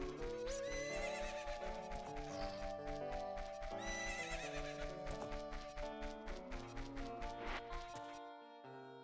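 Horse neighing and clip-clop hooves from The Legend of Zelda: Ocarina of Time, repeated whinnies ringing out over a steady hoofbeat rhythm and game music, loud and close with no talk.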